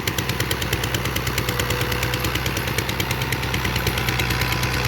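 A 2019 New Holland Al-Ghazi 640 tractor, about 75 hp, running steadily with a fast, even diesel knock and a rhythmic mechanical clatter, close and loud without a break.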